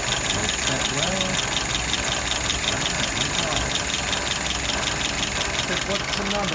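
A car engine idling steadily at about 650 RPM with a constant, loud mechanical rattle and hum, while a person speaks faintly over it now and then.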